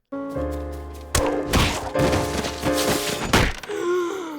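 Cartoon trip-and-fall sound effect from Steven Universe: a loud thunk and thump, then a tumbling clatter of impacts and a final hit, ending in a short sliding tone.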